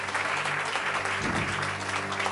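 Congregation applauding at a Marathi Christian sermon, a dense steady wash of many hands clapping throughout with a faint low hum underneath.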